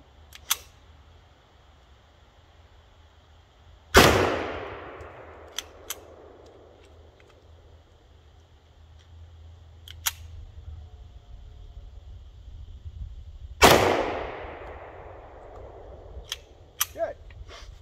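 A CZ-52 pistol fires two loud, sharp gunshots about ten seconds apart outdoors, each followed by a fading echo, with faint clicks and handling noises in between.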